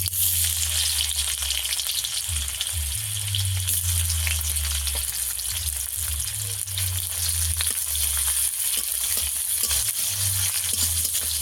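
Chopped onions fry in oil over five-spice tempering, giving a loud, unbroken sizzle and crackle that holds steady for several seconds, close up, with a low background hum beneath.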